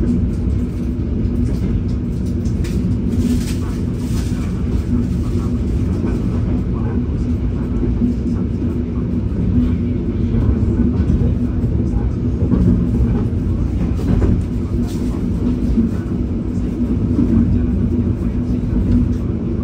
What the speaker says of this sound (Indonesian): lanjut naik kereta api Pangrango